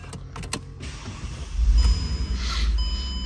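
A 2009 Mercedes-Benz CLK cabriolet with a 5.5L V8 starts up, with a brief starter whirr followed by a low, loud engine rumble that settles into a steady idle close by.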